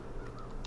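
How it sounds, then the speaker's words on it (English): A crow caws in the video game Child of Light, a few short nasal calls over a steady game music bed, moderately loud and alone without talk. "That's a drunk crow."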